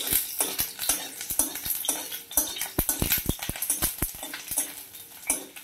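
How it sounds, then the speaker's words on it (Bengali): Garlic cloves frying in hot oil and stirred in a pan while cooking spicy veg Maggi, with repeated sharp utensil scrapes and clinks over a steady close sizzle, no talking. "এবার তেলের মধ্যে আমি এই যে রসুন কোয়াগুলো দিয়ে দিচ্ছি। একটু খানিকক্ষণ একটু নেড়ে নেড়ে ভেজে নেব রসুনটা।"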